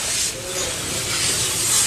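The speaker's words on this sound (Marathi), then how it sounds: "आता देखील पाणी मारून कूलिंग करण्यात येते" Water is sprayed to cool the charred remains of a restaurant gutted by fire, a steady broad hiss of spray and steam that holds loud and even from start to finish.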